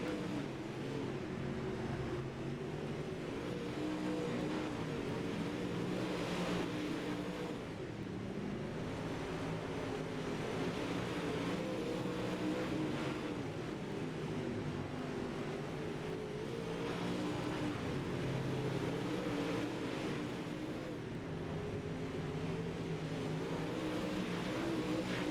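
UMP modified race cars racing in an afternoon feature at Fairbury, a steady loud roar of engines with revving surges as cars pass, continuous throughout with no talk.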